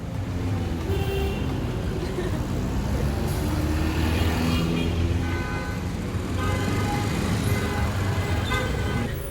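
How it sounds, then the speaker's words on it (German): Busy street traffic in Lima, Peru, rumbles on continuously with cars, trucks and buses passing, while car horns toot repeatedly in short bursts, some near and some farther off, over a steady roadway din. "Aber generell ist sehr reger Verkehr und die Leute hupen die ganze Zeit"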